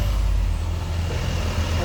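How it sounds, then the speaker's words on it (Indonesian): An Isuzu RRF truck on a road, its deep diesel rumble steady and close alongside traffic noise, with no talking. "Ini dia truk Isuzu RRF."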